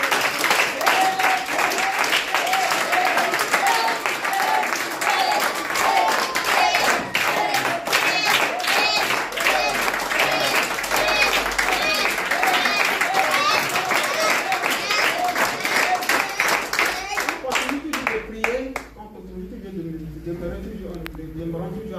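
A church congregation claps and cheers together in acclamation of the Lord, a loud, dense and steady wave of applause lasting many seconds and fading near the end as a voice comes through.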